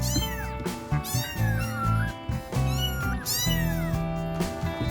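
A 30-day-old kitten meows repeatedly and insistently, high thin cries following one another closely and loudly, with no talking.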